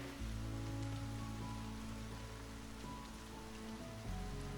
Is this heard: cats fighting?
no